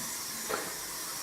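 A steady, broadband hiss of escaping steam from a steam locomotive on the Vale of Rheidol Railway, moderately loud and continuous, with a brief swell in the middle.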